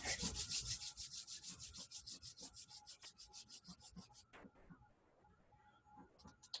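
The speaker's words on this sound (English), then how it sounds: "Rubbing your hands together." Hands rub together briskly during a tai chi warm-up, making a steady, rhythmic swishing friction sound. The rubbing is quiet and close, then slows and trails off near the end.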